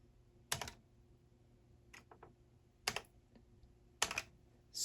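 Keys tapped on a ZX Spectrum +2e computer keyboard: a few sharp, separate presses with pauses between, close and clear against near silence.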